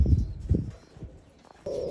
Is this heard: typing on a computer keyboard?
no